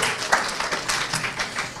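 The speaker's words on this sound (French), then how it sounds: "On va les applaudir." An audience claps at an awards ceremony honouring women in Africa, a dense and fairly loud ripple of hands that carries on steadily for a couple of seconds.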